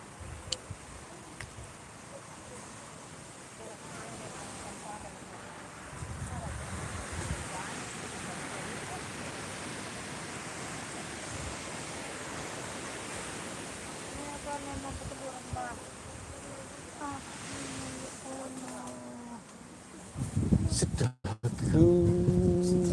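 Surf and wind sweep over the white-sand Kuwang Wai beach in a steady broad roar for about twenty seconds. The sound grows louder and gustier near the end, where voices briefly come in.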